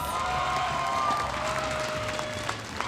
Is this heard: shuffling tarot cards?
no